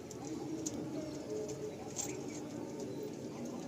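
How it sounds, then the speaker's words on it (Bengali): A pigeon offered for sale at a Baruipur loft coos softly and low, faint against a noisy background, with someone talking nearby. "দেখুন এই একটা পায়রা দেখুন"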